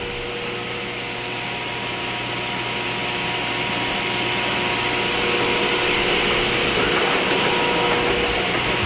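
A Diehl No. 55 straight line rip saw runs at its highest feed speed, a smooth steady whine with broadband hiss and a low hum, close and continuous, with no voices.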